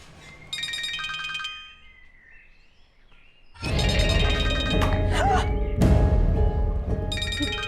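A mobile phone ringtone chimes loudly in repeated melodic bursts, dropping out briefly and then returning under a clatter of spilled liquid and a busy domestic scene in a Pakistani family drama, with voices nearby.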